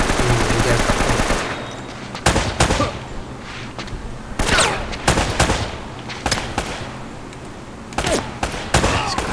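Gunfire in Uncharted: Drake's Fortune Remastered on PS4, with a dense opening volley followed by repeated sharp bursts of rapid shots spaced irregularly, loud and close.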